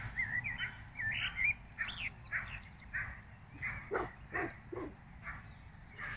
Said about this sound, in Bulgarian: Там някъде две кучета се скараха.